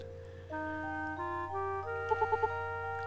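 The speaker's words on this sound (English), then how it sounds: "Chicken?" A chicken in the farming game Harvest Moon: One World gives a quick series of four short clucks over steady game music, with no talking.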